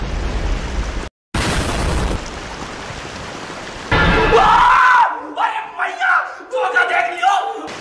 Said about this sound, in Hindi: उसको बम से उड़ा दिया भाई।